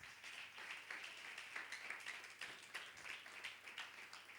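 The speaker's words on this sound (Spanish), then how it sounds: "Dele un aplauso al Señor." A church congregation applauds during a sermon, with continuous, fairly faint clapping from many hands that carries on throughout with no voice over it.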